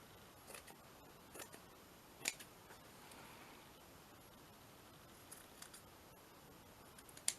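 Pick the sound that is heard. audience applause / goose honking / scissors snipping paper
scissors snipping paper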